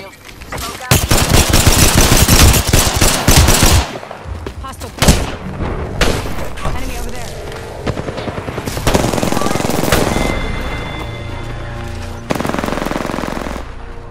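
Dense automatic weapon fire in the Apex Legends battle royale game, loud rapid bursts and sustained volleys mixed with heavier booms and thuds, nearly continuous, with brief game voice lines underneath.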